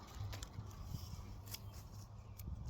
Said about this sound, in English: So with the radish, I'll just cut off the ends.